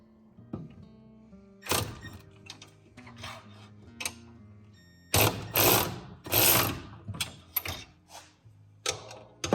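A ratchet wrench tightens bolts on the frame rail of a 1972 Chevrolet C10 truck, with irregular bursts of rapid metallic clicking separated by short pauses, close and fairly loud.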